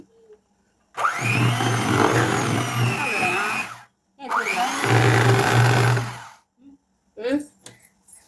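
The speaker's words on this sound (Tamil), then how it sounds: "அக்கா வந்து மாவு போட்டு மிக்ஸ் பண்ணிட்டு இருக்காங்க." Electric hand mixer whirring through brownie batter in a home kitchen, two loud sustained bursts separated by a short pause, followed by faint clatter and brief voices.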